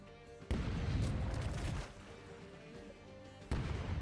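Two heavy booming ship cannon blasts in the video game Rogue Waters, one at the start and another near the end, each followed by a rumbling decay, in a naval battle soundscape.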